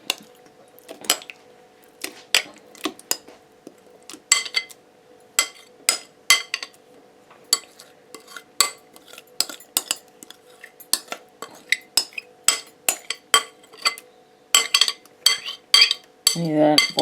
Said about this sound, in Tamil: இதை போட்டுட்டு எல்லாத்தையும் நல்லா கலந்து விடுவோம்